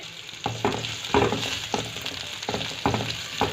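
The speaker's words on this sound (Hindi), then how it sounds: "तो इसके अंदर मैं डाल दूंगी प्याज। बिस्मिल्लाहिर्रहमानिर्रहीम। बस हल्का सा इसको फ्राई करेंगे," Onions hitting hot oil in a pan for a potato and yogurt gravy, giving a soft sizzle with repeated stirring scrapes and clatters at an uneven rhythm, close and fairly quiet, with no voice heard.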